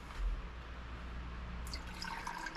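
Water poured in a forge workshop for mixing with ferric chloride etchant, a steady faint splashing stream with a brighter, more audible pour toward the end, no voices.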